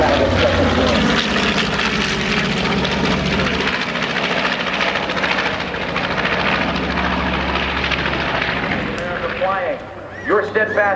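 Antique propeller aircraft flying at the 2007 Blue Ash Airshow, a loud, continuous engine drone throughout with a public-address announcer speaking over it and a brief dip near the end.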